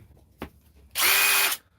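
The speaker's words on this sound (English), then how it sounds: "So it can be used as a drill" A hammer drill runs in one loud, steady burst of about half a second, starting abruptly and cutting off cleanly after a brief knock. It is close up, with no talk over it.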